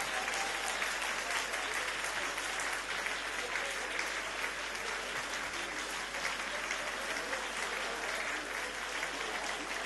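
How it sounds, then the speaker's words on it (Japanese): Sustained audience applause fills a Christian gathering in Hokkaido as a team is welcomed onto the stage, a dense, steady wash of many hands clapping at even loudness for about ten seconds. "皆さん拍手をお迎えしましょう。"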